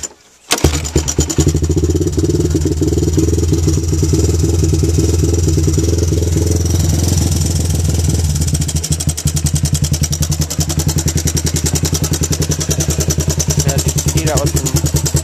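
A Honda ATC200 three-wheeler engine, fitted with a racing carburetor on choke, fires from ice cold and keeps running at a fast, loud, steady clatter, close by and without a break.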